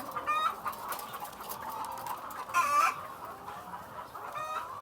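Chickens on a large egg farm clucking and squawking, several birds calling over a steady background hum, with a louder burst of cackling midway.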